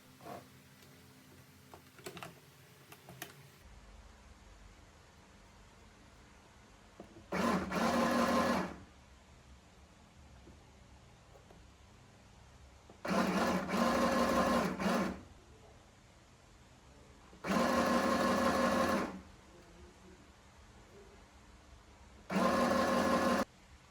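A sewing machine stitching a gathered fabric collar for a coquette top: four bursts of fast, buzzing whir lasting one to two seconds each, separated by quiet pauses with faint handling noises.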